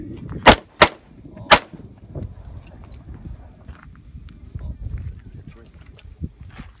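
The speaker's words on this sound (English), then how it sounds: "So I take my shotgun and I shoot the guitar, and bits are flying off it, the strings are breaking" Three sharp, loud shotgun blasts fired at a guitar in quick succession, close to the microphone, followed by quieter outdoor rustling and faint movement.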